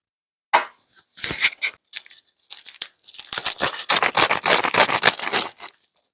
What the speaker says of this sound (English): Let's cut them in half now.